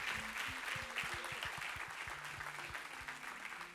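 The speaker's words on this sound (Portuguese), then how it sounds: "Eu gostaria que você desse uma salva de palmas por esse ministério abençoado" A church congregation applauding at an evening service, a faint, steady spatter of clapping with a low musical tone underneath.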